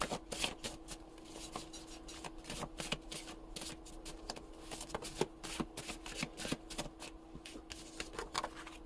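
Tarot cards being shuffled by hand, with quick bursts of riffling, flicking card sounds in an irregular rhythm, close and fairly quiet, with no talking over them.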